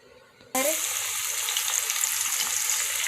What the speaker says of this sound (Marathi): आता लसूण टाकून घेतला आहे आणि तळून घेणार आहे